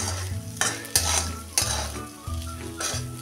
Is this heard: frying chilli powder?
yes